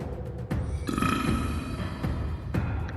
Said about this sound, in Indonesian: Onim bersendawa setelah menelan bulat-bulat Jagure.